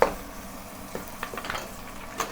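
Mutton added to a pan of fried ginger sizzles softly and steadily, with scraping stirs and small clinks of a utensil against the pan, close and moderate in level.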